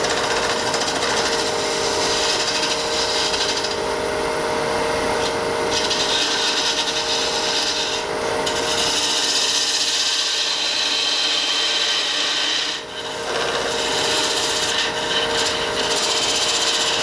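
A woodturning tool rides its bevel against spinning wood on a lathe, giving a steady, loud scraping rub with a few brief dips, close by and with no talking.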